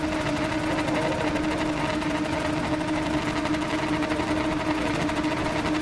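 Rallycross cars held at a 9,300 rpm rev limiter on the start line at Kouvola, Finland, a dense sustained buzzing engine drone with rapid limiter stutter, loud and continuous throughout, no speech.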